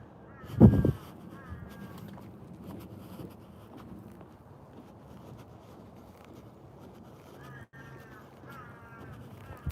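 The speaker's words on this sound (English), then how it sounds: "Can you hear crows crowing?" Crows caw a few times in short bursts, some near and some farther off, over gusty wind on a seaside boardwalk walk.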